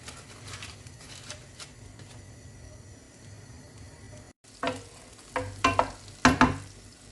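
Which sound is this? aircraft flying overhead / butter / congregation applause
butter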